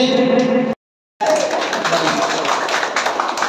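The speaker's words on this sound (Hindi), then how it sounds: "ताली बजा के सब स्वागत कर देलिए" Crowd applause at a party convention in Nepal, broad continuous clapping that follows a short silent gap and continues steadily and loudly to the end, with a voice briefly over it at the start.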